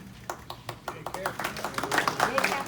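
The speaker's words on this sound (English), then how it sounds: "Thanks for the applause." Scattered applause from the audience at a township annual meeting, a few distinct claps at first that thicken into denser clapping, close and fairly loud.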